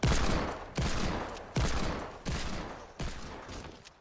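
Rapid modded gunfire in a video game rings out in five sharp bursts about three-quarters of a second apart, each a crackling blast that decays before the next, loud and alone.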